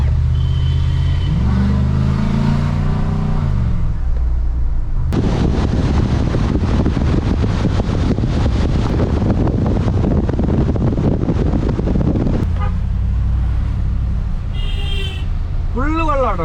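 A Ford Raptor truck drives across Kuttippuram bridge, its engine and road roar swelling loud for several seconds amid wind buffeting, with quieter cabin hum and occasional voices before and after.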